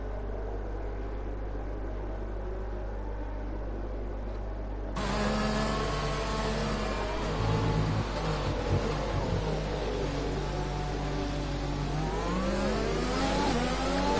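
A race car engine in a racing game league final revs up and accelerates, its pitch climbing steadily after an abrupt start, loud and continuous over a constant background hum.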